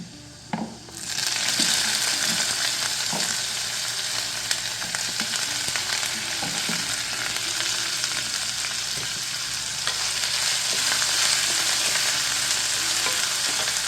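Chopped onion lands in a pan of hot oil with garlic, setting off a sudden loud burst of sizzling that settles into a steady, dense crackle, punctuated by a few stirring clicks.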